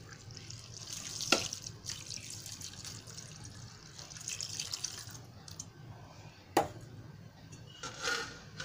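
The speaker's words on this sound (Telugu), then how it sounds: "అర లీటర్ వాటర్ పోస్తున్నానండి." Half a litre of water is poured into a pot of mutton curry with ridge gourd and whole spices, giving soft running and splashing sounds with a couple of sharper splashes.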